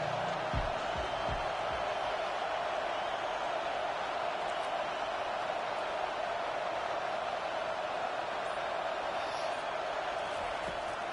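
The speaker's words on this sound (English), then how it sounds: "Decibels rising as the crowd gets behind this defense on 3rd down." Dense, steady crowd roar from a stadium during a football game on third down, a continuous wash of noise with a few faint thumps early on and no clear voices standing out.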